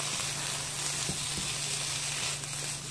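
Fresh grated ginger sizzles in a frying pan for cauliflower rice with shrimp, a loud continuous hiss with a low steady hum beneath and a few soft knocks of stirring, no talking.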